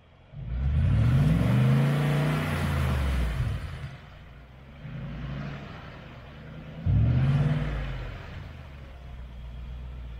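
A vehicle stuck in mud revs hard while reversing, the engine surging up in two strong, rumbling bursts separated by a quieter idle.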